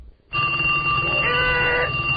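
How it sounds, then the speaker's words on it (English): A telephone on a second line starts ringing abruptly in a radio studio, a loud, steady electronic ring sustained for about two seconds with no talking over it. "Hold on, my other line is ringing."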